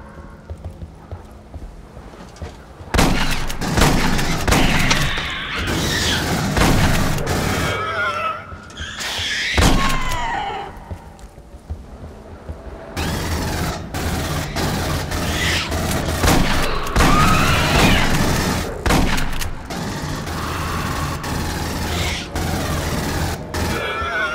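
Dense bursts of rapid automatic gunfire crackle loudly in the PC shooter game Aliens: Colonial Marines, with short pauses between volleys and a busy, chaotic battle background.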